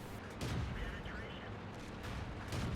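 A T71 tank's cannon firing in World of Tanks on the Sacred Valley map, a couple of heavy booming shots with rumbling tails amid battle noise, a voice speaking over it.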